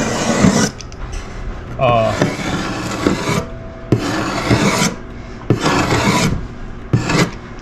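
A hand tool rubs peeling paint off 120-year-old wooden beadboard in loud, scratchy rasping strokes. Several passes of about a second each are separated by short pauses.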